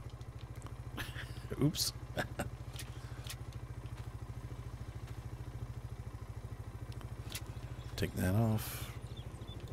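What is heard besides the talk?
motorbike engine left running, from a video game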